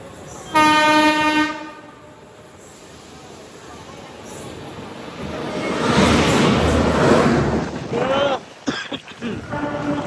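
A train pulls into platform 3 on an Indian railway line, crossing a Nellore–Vijayawada MEMU express: a loud sustained horn blast, then a swelling rumble and clatter of carriages passing close by, ending in uneven clanks.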